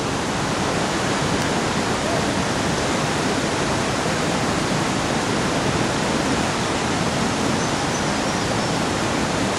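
Big white water rapids rushing, a dense, loud, unbroken roar of churning water that holds steady throughout with no voices over it.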